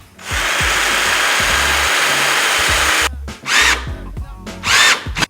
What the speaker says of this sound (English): I'm gonna attempt to pre-drill it on the cabinet